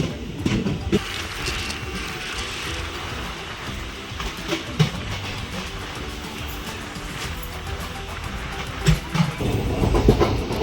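Train running on the line from Udupi to Bengaluru, its steady rolling rumble and wheel clatter continuous throughout, with occasional louder knocks near the end.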